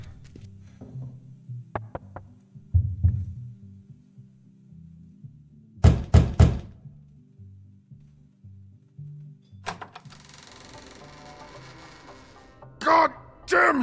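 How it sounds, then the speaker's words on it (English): Someone knocks on a door in The Wolf Among Us: a quick cluster of three close, solid knocks stands out among scattered thuds, low muffled sounds and a few sharp clicks. "We're going to knock on the door."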